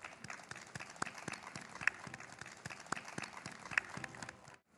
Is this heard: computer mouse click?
no